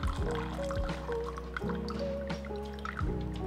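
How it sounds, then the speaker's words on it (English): Water splashes and dribbles in a short continuous stream as it is poured out of a Chemex coffee maker, with drips and liquid sloshing close by; no talking. "Now I can throw out the water"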